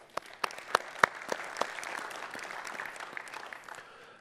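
A small audience claps, with a few sharp, distinct claps at first that blend into a steady patter of applause and then fade.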